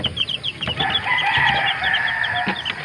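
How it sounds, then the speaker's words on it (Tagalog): A red Kelso gamecock crows in short bursts, fairly close, over a background of clucking hens and other farmyard chatter. "Ang ama nito ay isang pula na manok."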